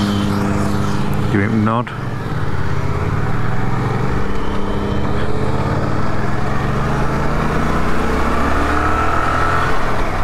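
Motorcycles pass along a road, their engine note rising and fading around a nearby running vehicle, while people talk throughout.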